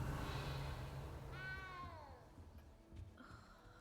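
A cat meows in the video game Hogwarts Legacy, a single drawn-out meow with a falling pitch rising clearly over a low steady game ambience, followed by quieter background sounds.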